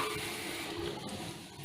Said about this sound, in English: I'm gonna drain this water,